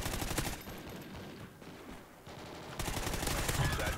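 A custom Honey Badger rifle fires in automatic bursts in COD Ghosts, rapid dense gunshots at the start, a brief lull with distant shots, then another sustained loud burst.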